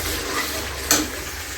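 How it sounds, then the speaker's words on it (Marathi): Masala frying in oil in a pan, a continuous close sizzle with one brief stir clink partway through, short and alone. "मसाला असा छान फ्राय करून घ्यायचा, त्याला तेल पण सुटत आलेलं आहे"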